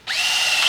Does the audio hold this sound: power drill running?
yes